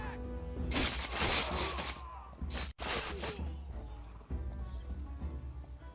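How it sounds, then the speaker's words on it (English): Cavalry horses charge in a medieval-era battle in the video game Humankind, with hooves clattering alongside crashing, shattering impacts, loud at first, then briefly cutting out before the clatter resumes at a lower level. "my horses are going to have to charge out at him"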